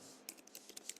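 Quick, irregular clicks of keys being typed on a computer keyboard, close and fairly quiet in a still room, with several sharper taps in a loose rhythm over about a second.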